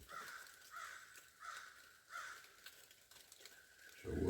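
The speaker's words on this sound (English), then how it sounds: "the crows are back at it now." Crows caw repeatedly at dawn outdoors during a rainy deer hunt, a series of rhythmic harsh calls at moderate distance, faint and alone, with a soft thump at the end.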